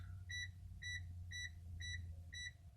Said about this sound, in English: that was my alarm because I left my key on in the accessory position